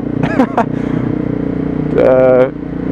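A Honda CRF250L motorcycle engine running steadily nearby, with two short bursts of rising pitch over a constant low idling rumble.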